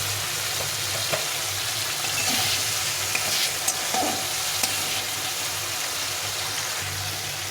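Spices sizzle steadily in hot oil while a utensil scrapes and stirs the pan, cooking a fish-head curry, with a few sharp clinks standing out.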